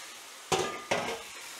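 Cooked spaghetti tossed in a hot pan for carbonara gives a soft steady sizzle broken by two scraping, stirring bursts, fairly quiet and close.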